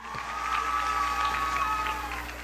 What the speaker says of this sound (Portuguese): uma salva de palmas aqui para ele